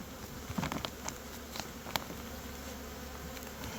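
Honey bees crowd the frames of a spring hive on a cold day, giving a faint, steady buzzing hum with scattered soft taps and knocks over it.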